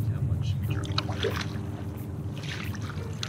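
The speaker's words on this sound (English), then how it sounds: "I'm paddling." A DIY electric kayak is paddled on open water. A steady low motor hum runs beneath soft paddle splashes and light wind noise, with a faint voice nearby.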